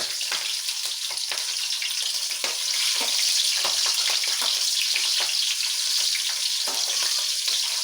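Green chillies frying in hot oil for dhaba-style egg rice, a steady dense sizzle with crackling pops throughout, close and fairly loud, no voices.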